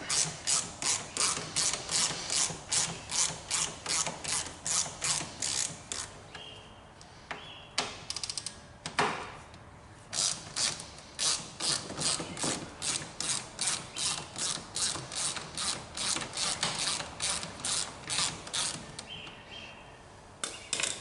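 A socket ratchet loosens bolts on the door lock of a 2004-2010 Volkswagen Jetta, producing rapid, crisp clicking in rhythmic back-and-forth strokes with a few short pauses, close up and without talking.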